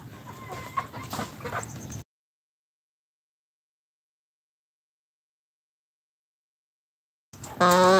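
Chickens cluck on a poultry farm in a short, fairly quiet burst of calls at the start. Silence follows, then a sudden loud burst of sound at the very end.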